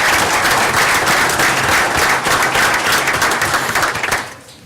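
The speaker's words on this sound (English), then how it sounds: "I'd like to applaud them for keeping us safe every day." An indoor audience at a community meeting applauds firefighters and police officers, with dense, loud, continuous clapping that fades away near the end.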